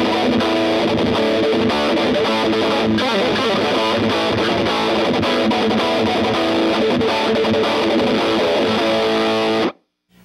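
An electric guitar played through a Distortion Plus pedal chugs out heavily distorted riffs and chords, loud and sustained, then cuts off abruptly near the end.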